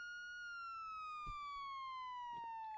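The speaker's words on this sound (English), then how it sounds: "that siren is so loud" Police car siren in a video game, a steady wailing tone that slowly falls in pitch across the whole stretch, fairly loud and continuous, with a couple of brief knocks underneath and no talking.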